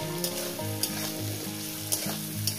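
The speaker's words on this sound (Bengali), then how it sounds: "দিয়ে দেবো কাঁচা লঙ্কা, টমেটো। এটাকে আমি 2-3 মিনিট ভেজে নেব।" Green chillies and tomato fry in a pan with a steady, close sizzle, broken by a few sharp spatula scrapes and a low rhythmic pulse underneath.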